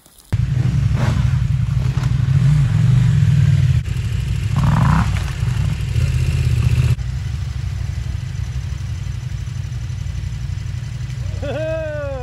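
A dirt bike's engine drones steadily at close range during off-road riding practice, with a sustained low hum that shifts in level partway through, and a voice talks briefly over it.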